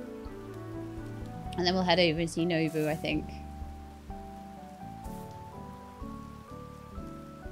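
Steady pattering rain falls in the cozy video game Snacko, a soft continuous hiss under gentle game music while a person talks over it.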